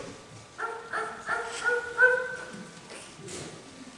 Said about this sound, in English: I just got done teaching my dog Fifi a few tricks